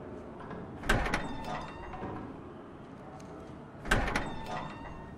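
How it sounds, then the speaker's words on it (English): Chimney ash pit door in the adventure game Mata Hari: two separate heavy metallic clanks of the door being worked, each a sharp thud with a short scraping tail, spaced a few seconds apart over a low room hum. "The door to a chimney ash pit."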